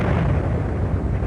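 A massive volcanic eruption explosion, Krakatau in 1883, rendered as a dense, continuous roaring blast of broadband noise that stays loud and unbroken for just over a second.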